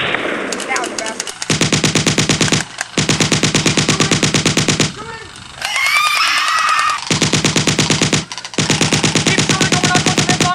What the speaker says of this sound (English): Keep shooting, or we're not going to live long enough to run out of ammo!